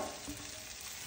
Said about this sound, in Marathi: टोमाट बरे मोव जाल्ले आसा, तितून घालून घेवया सोय बरी ब्राऊन जायसर